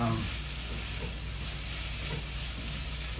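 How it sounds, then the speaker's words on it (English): Mushrooms fry in a pan while corned beef hash is being made, giving a steady, close sizzle that holds even for about three seconds with no talking. "the mushrooms are getting great now"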